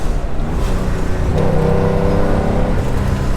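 Flat-six engine of a 1972 Porsche 911 pulling steadily on a canyon road, a loud continuous drone that rises in pitch partway through, heard from inside the car with no talking.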